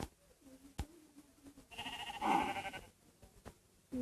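A sheep gives a single, moderately loud wavering bleat partway through, set among quiet outdoor background with a few sharp knocks and brief bits of nearby talk.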